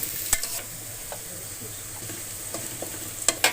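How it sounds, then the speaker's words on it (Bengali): Chopped onions fry in hot oil for a duck curry, a soft steady sizzle with occasional stirring clicks and scrapes of a spoon, no voices. "লাল লাল করে ভেজে নিব।"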